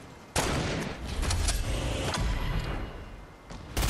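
Heavy, dense gunfire from a video game firefight crackles and booms continuously, with sharp loud cracks at the start and end and a rumbling barrage in between.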